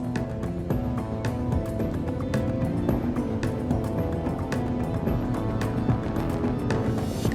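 Car driving along at a steady pace, a continuous low engine hum and road rumble filling the cabin, with faint clicks and rattles over the top and no voices.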